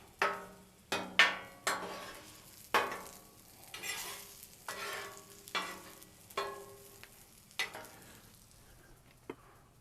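Crisped potatoes on a Blackstone griddle sizzle softly while a spatula scrapes and taps the flat-top in a steady string of sharp clanks, fairly quiet and without talk.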